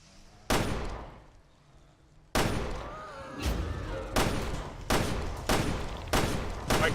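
Gunfire in Resident Evil: Revelations 2 rings out as a series of loud, sharp shots, one early, then a rapid run of close blasts with ringing tails, spaced irregularly across the clip.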